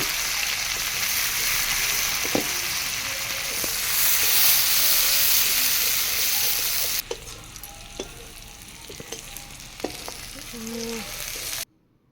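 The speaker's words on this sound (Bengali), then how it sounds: "এই কেটে রাখা পেঁয়াজটা দেওয়ার পরে বেশ কিছুক্ষণ আমি এটা ভেজে নেব যতক্ষণ না একটু লাল লাল হয়ে আসছে" Chopped onion sizzles steadily in hot fish oil with black cumin, a dense frying hiss with scattered pops and stirring scrapes that drops to a softer crackle about halfway through.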